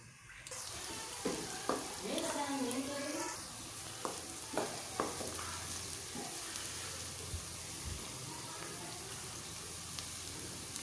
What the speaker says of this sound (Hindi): तेल मैंने गरम कर लिया है। इसमें प्याज को शामिल करते हैं।